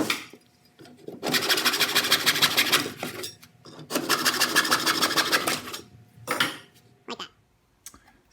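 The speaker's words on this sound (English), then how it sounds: "So we're just going to cut that with a hacksaw." Back-and-forth rasping of a hacksaw cutting through wooden doweling for a folding stool, heard up close in two long sustained bursts of rapid strokes, then a few short final cuts and pauses.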